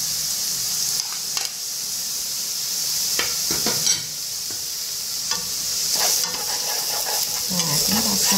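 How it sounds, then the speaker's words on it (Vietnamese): Straw mushrooms and carrot stir-fried with salt, seasoning powder, MSG and a little sugar in a pan, a steady close sizzle with repeated scraping stirs throughout, no voices. "Và chúng ta xào lên"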